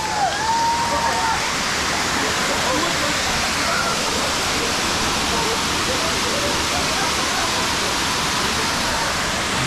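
Laurel Falls, a waterfall in the Smoky Mountains, roars in a loud, steady broadband rush that fills the whole stretch without a break, with faint voices of a crowd of hikers mixed beneath the water.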